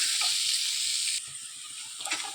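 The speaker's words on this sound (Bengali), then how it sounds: "পেঁয়াজটা ভাজছি" Sliced onion with salt and turmeric fries in a little oil in a pan, giving a steady, fairly close sizzling hiss that eases partway through, with a few faint stirring scrapes.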